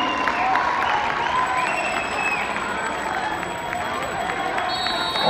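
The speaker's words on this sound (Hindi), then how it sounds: "जोर से बजाओ ताली, कोई हाथ नहीं रहेगा खाली।" A crowd claps steadily throughout at a Delhi State School Games athletics meet, during an under-17 junior boys' 800-metre race, with faint shouts mixed into the applause.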